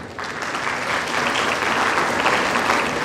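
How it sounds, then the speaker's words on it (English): Conference delegates in a hall break into steady, fairly loud applause for the session chairpersons, dense clapping that swells slightly and holds throughout. "A hand of applause for all of them"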